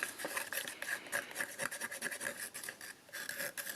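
A tool scrapes rust powder off the inside wall of a plastic jar, quiet close-up rasping strokes repeating in a quick, uneven rhythm.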